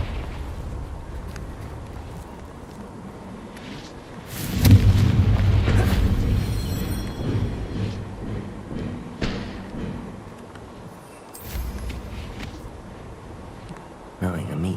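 A Confringo fire spell explodes in the Hogwarts Legacy video game, a loud booming thud that swells suddenly and rumbles for a couple of seconds, then fades into quieter game ambience and softer thumps.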